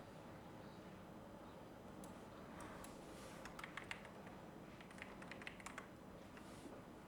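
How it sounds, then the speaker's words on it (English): Quick, light clicks of fingers on a computer keyboard, soft and close, tapping in short irregular bursts over faint background noise. "I'm just going to type in cinematic."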